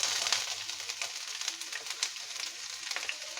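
Sliced onions tipped into hot oil with whole garam masala spices for a vegetable stew, giving a faint, steady crackling sizzle with scattered pops and spits.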